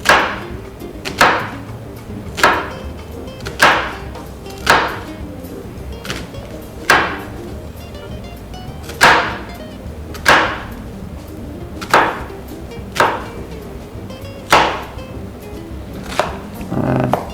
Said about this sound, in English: we're just going to slice along the lines of the onion